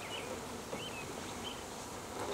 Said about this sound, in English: this is a lot of bees